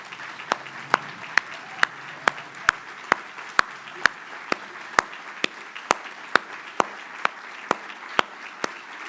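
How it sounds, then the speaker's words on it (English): At a scholarship banquet, claps ring out as sharp, evenly spaced single strikes, around twenty in a steady rhythm over nine seconds, over a quiet room. "Let's give them one more round of applause"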